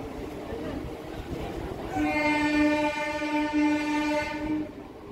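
A Howrah–Haldia galloping local train departs with a long, loud horn blast after a brief rumbling lead-in, the horn sustained for a few seconds before cutting off under running noise.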